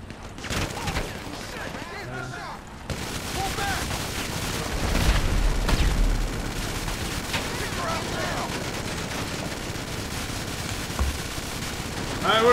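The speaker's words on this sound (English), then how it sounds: "He's getting off his bike. He's using rockets." Rocket launches and explosions in GTA 5 Online, from a Blazer Aqua cleanup mission, with dense bursts of gunfire and booming blasts that run continuously, loud and near, with a voice talking over the combat.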